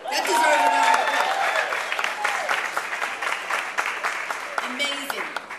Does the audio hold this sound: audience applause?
yes